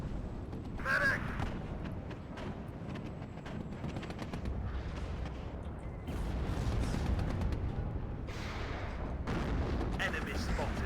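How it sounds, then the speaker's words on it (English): Artillery and mortar fire in the strategy game Warno: repeated booming blasts and rumbling impacts over a continuous din of battle noise. "Let's get our mortars firing here"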